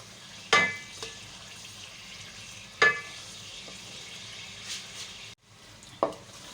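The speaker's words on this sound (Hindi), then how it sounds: "अच्छा, ये देखिए सारा तेल में मैं चला रही हूँ।" Soft sizzling of Balti chicken masala being stirred in hot oil, a low steady fry broken by a few sharp scraping clacks of the spoon against the pan, no voices.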